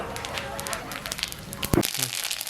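Mustard seeds spatter and crackle in hot oil in a pan on a stove, a short burst of quiet sizzling pops with one sharper crack near the end.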